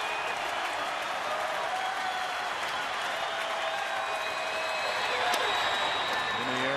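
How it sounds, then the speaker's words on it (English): Baseball crowd applauding during a Phillies at Astros game, a steady, even wash of clapping and crowd noise spread across a large stadium, sustained at moderate level throughout. "they're probably just applauding very good baseball tonight"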